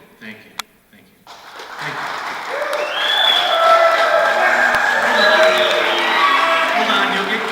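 A debate audience breaks into applause. The clapping starts sparse after a few isolated claps, then swells into a dense, sustained ovation that stays loud to the end, with some crowd noise mixed in.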